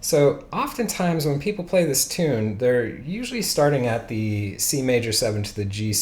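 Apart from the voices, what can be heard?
None of the usual background noises is heard.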